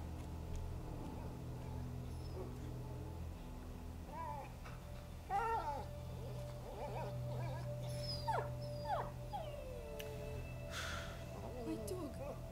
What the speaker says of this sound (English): Oh, I hate when dogs whimper.